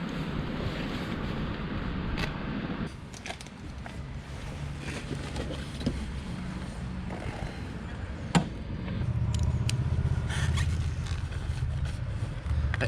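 Motorcycle riding along a road, heard as a steady engine drone beneath heavy wind buffeting the microphone, with the engine note swelling louder toward the end.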